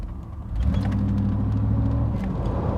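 A 1988 Pontiac Trans Am GTA pulling away, its engine rumble rising after a brief quieter moment and then holding a steady low drone heard from the cabin, with no voices.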